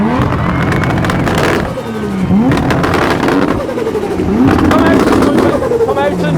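Toyota Supra revving at a supercar sound-off event, loud engine rises and falls repeatedly over several seconds with crowd and announcer voices mixed underneath.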